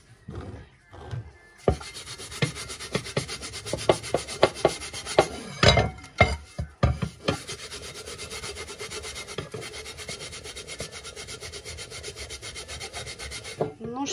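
A rag loaded with cleaning paste scrubs a frying pan in quick, uneven rubbing strokes, at first sharp and choppy, then settling into a steadier, softer rasp, close up and without talk.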